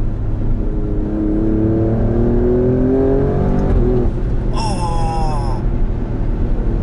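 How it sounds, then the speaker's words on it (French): An Alfa Romeo Stelvio Quadrifoglio SUV accelerates hard on a road in Dubai, its engine note climbing through the gears with loud exhaust crackles and a brief high whine, heard from inside the vehicle. "vous avez entendu le craquement là? Oh là là là là, le travail à l'échappement"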